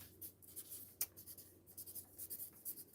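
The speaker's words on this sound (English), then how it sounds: "let me write on here" Pen or marker writing on pattern paper for a bubble-hem dress, close and quiet, a series of short scratchy strokes in an uneven rhythm.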